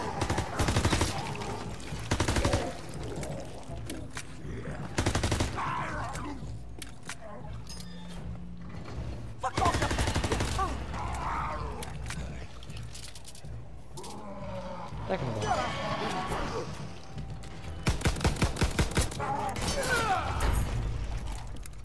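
Combat shotgun blasts in a zombie survival game, repeated loud booming shots in uneven bursts amid other game noise, with a voice talking throughout.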